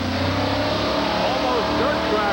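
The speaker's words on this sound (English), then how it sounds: "A lot of air, both front and back, for Dan Patrick and Bigfoot 7." A Bigfoot 7 monster truck engine roars steadily on a dirt track at a 1989 Indianapolis off-road jamboree, loud and continuous with rising revs, under a commentator's voice.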